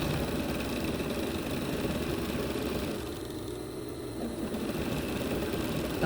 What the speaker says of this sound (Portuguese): eu vou consumir todo o overlock de cima até quase embaixo